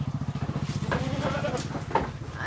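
Barbari goats, small compact spotted brown-and-white animals, bleat in a series of rapid, wavering low calls, loud and close, with faint background noise and brief bursts of other sounds.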